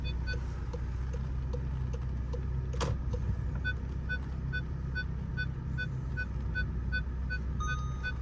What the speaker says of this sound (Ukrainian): Пролізає, парктроніки працюють, все гарно працює.